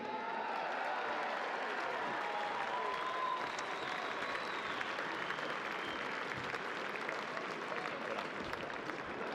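Stadium crowd at the 2019 WAFL Grand Final between Subiaco and South Fremantle applauds premiership captain Lee Kitchen, a dense, steady roar of clapping that holds evenly for the full stretch with no break.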